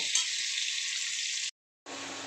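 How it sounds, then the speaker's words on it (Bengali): Potatoes and chopped onions frying in a pan, a loud steady hiss that cuts out briefly, then resumes. "এগুলোকে এবার আমি ভালো করে ভেজে নেব"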